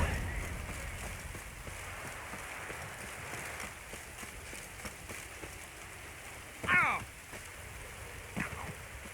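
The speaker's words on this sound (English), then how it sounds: "Looks like rain." Steady rain in The Witcher III: Wild Hunt, a soft constant hiss of drops at low level, with a brief voice or sound rising over it near the end.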